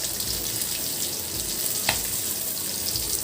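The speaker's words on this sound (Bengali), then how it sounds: "আর এই যে এখানে মাছগুলি এক পাশ ভাজা হয়ে গেছে" Fish frying in oil in a wok give off a continuous bright sizzle, steady and close, with a faint clink partway through and no talking.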